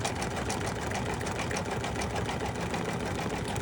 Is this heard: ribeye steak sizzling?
no